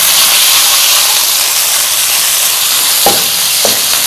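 Small boneless chicken thigh pieces fry in a pan with a loud, constant sizzle and hiss, and two brief scraping stirs come near the end.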